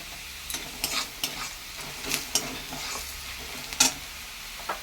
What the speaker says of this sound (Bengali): পেঁয়াজগুলো দেখুন আমার লাল লাল ভাজা হয়ে গেছে